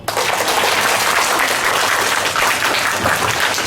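Audience applause fills a declamation competition hall right after a speech, a dense, steady roar of many clapping hands held at full strength throughout, with no voices on top.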